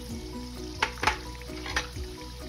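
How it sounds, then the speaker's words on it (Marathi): Mustard seeds drop into hot oil with fried peanuts in a pan, a steady close sizzle with a few sharp crackling bursts and stirring strokes. "त्यानंतर मी आता इथे टाकते आहे मोहरी।"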